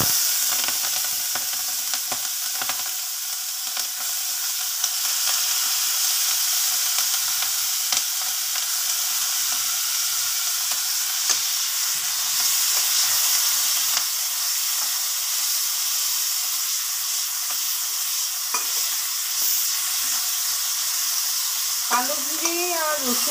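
Garlic cloves with black cumin and onion stalks frying in oil in a kitchen pan, an even, hissing sizzle with light stirring clatter, near and steady, and a brief voice near the very end.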